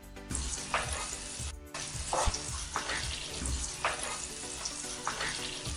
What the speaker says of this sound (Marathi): आता आपण यात समोसे तळायला टाकायचे आहे.